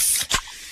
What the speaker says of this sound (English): that's the sound of a freshly opened fizz-filled Pepsi